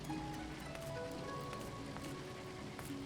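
Rain patters steadily and faintly against windows in the Final Fantasy XIV video game, a soft continuous hiss with scattered drop ticks and no voices.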